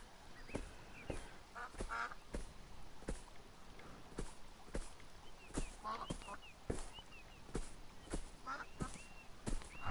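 Waterfowl quacking and honking in the video game Beyond Eyes, with repeated calls scattered across steady ambient background and faint soft footsteps.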